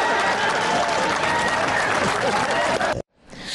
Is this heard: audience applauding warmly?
yes